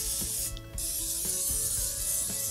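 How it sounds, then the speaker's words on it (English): A hissing canola oil cooking spray runs almost continuously into a 9x9 baking pan, with a brief pause and a few soft clicks and knocks, close by. "Spray that down a little bit with some canola oil"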